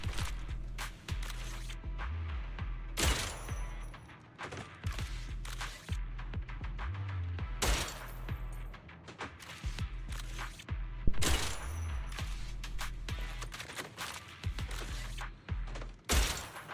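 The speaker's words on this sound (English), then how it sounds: "After aiming, the shots will have a piercing effect, letting you hit all the enemies in a straight line for maximum value" Aimed piercing gunshots in Zenless Zone Zero crack out in rapid bursts, sharp booming volleys recurring every few seconds over a steady low rumble of game action.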